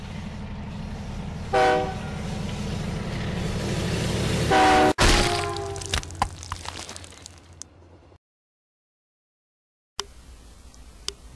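A train sound effect: a rumbling locomotive with two blaring horn blasts, then a sharp crash and rattling clatter fading out before silence and a faint final clank.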